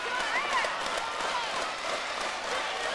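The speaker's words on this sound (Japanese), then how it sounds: "さあこの拍手はどちらへの拍手か。" Arena crowd applauding and cheering at a women's wrestling show in Yoyogi National Gymnasium's second arena, a dense continuous roar of clapping with a commentator's voice running over it.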